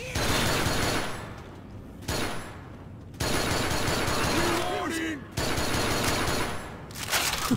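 Rapid gunfire in Left 4 Dead 2: dense bursts of automatic shots in several loud stretches separated by short gaps, with voices briefly heard among the shooting.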